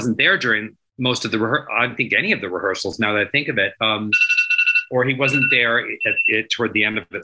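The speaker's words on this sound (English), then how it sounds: "that was my alarm to like tell me to be here 7 minutes late" A phone alarm chimes briefly between stretches of close talk, its bright repeating electronic tone breaking in during a short pause and then continuing faintly beneath the voice.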